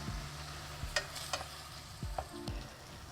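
Shredded cod sautés in a pan, with a steady soft sizzle and frying crackle broken by a few light scrapes and knocks of stirring, close and fairly quiet, with no talking.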